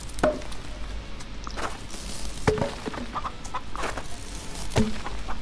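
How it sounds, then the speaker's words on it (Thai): Chickens in the farming video game Farm Together give short, soft clucks at scattered intervals over a faint, steady game background, with no voices. "เราให้อาหารไก่ด้วย กับโรซา"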